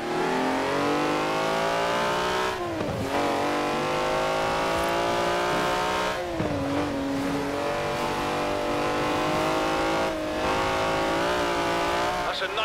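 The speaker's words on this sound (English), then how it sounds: "That's a 90-year-old racing car." A 90-year-old racing car in the video game Forza Horizon 4 drives hard, its engine revving loud and continuous through several gear changes, with brief dips and climbs in pitch.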